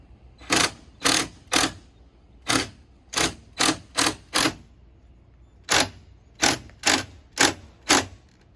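Socket wrench ratcheting on exhaust bolts during a Mustang exhaust install, sharp close clicking bursts in quick groups of three or four, with brief pauses between sets.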